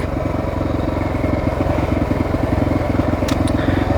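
A Honda XR600R dirt bike on a trail ride runs close by with a steady, throbbing single-cylinder thump at an even pace. A faint clink comes near the end.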